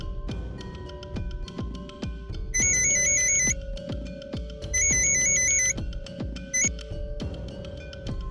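A telephone rings in two bursts of a bright, warbling electronic ringtone, clear and close, with a background music track playing under it.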